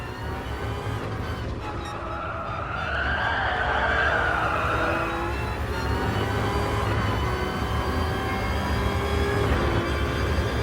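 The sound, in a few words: race car tyres skidding as rear slides out, from a video game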